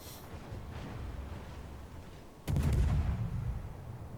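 Battleship shell fire in the naval video game World of Warships, a deep boom hitting midway and rumbling on under a low steady background roar.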